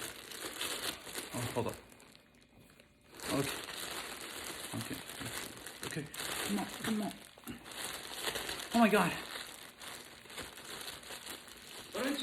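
Gift wrap crinkles and tears as a Christmas present holding a Joe Burrow jersey is unwrapped, with steady rustling throughout and a brief lull early on, while several people talk excitedly over it.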